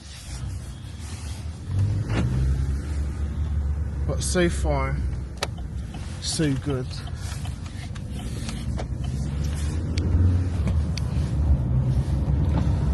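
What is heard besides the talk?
Vauxhall Astra car driving on road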